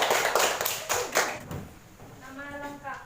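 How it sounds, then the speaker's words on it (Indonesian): A classroom of children clapping hands together in a short, loud burst that quickly fades, followed by a voice speaking. "Tepuk tangan dulu buat Ahmad"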